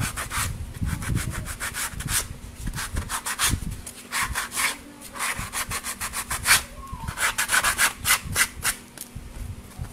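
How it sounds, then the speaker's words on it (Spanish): Sandpaper rubbing over a wooden bunny-shaped Valentine's craft piece, smoothing the contour of the ears, in steady repeated back-and-forth strokes, close and fairly loud with a low background hum and no talking. "Con la lija le vamos a dar un pequeño toque."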